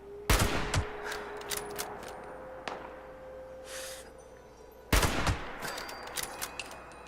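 Turret gunfire in Fallout 76: two sharp, loud bursts of rapid shots a few seconds apart, with scattered lighter cracks and hits between them.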